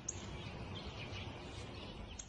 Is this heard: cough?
no